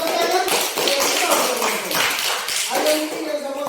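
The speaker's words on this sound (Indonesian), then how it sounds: "Ya, tepuk tangan." Children clap together in a classroom during a floor gymnastics lesson, a steady run of close, crisp claps that lasts several seconds with a few scattered voices mixed in.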